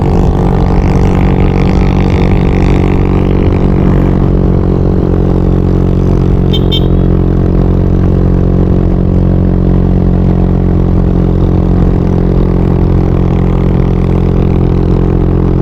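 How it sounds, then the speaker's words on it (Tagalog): A motorcycle engine runs steadily and loudly close by on a road in Mindanao, a constant low drone with no break and no voices. "Ito na ating isang motor."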